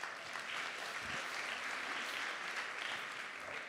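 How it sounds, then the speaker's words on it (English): An audience claps steadily at a leadership conference session, a dense, continuous round of applause from a sizable crowd, moderately loud throughout. "How about a round of applause for the misfits,"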